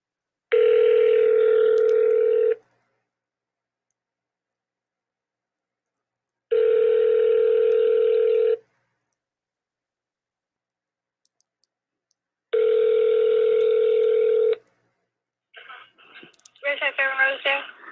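Three long, evenly spaced telephone ring tones sound over a phone call line, each about two seconds with equal gaps of silence, followed by brief clicks and a short burst of garbled sound at the end.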